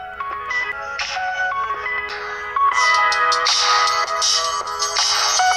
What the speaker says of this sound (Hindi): दोस्तों अब हम इसकी स्पीकर की टेस्टिंग करने वाले हैं